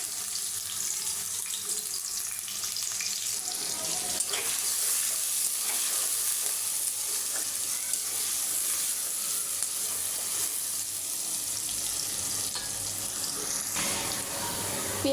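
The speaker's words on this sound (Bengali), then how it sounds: "পেঁয়াজটা ভাজা হয়ে গেছে" Chopped onion and garlic fry in hot oil, giving a long, steady sizzling hiss, with some stirring and a watery splash running beneath it.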